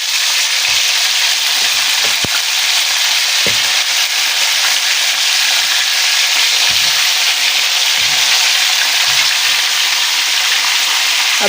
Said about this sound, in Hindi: ये मछली जो है ना मैंने तलनी है।